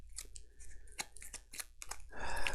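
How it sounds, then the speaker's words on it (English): Gloomhaven battle goal and curse cards being riffle-shuffled, a run of quick papery flicks and snaps in bursts, close and clear, ending in a longer rushing cascade of cards. "Shuffle these real quick. Shuffle the curse cards in."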